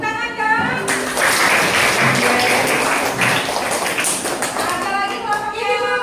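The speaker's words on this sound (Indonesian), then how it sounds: "Tepuk tangan dong." Classroom clapping from students at a teaching session, a dense burst of hand claps running from about one second in, with talk before and scattered voices throughout.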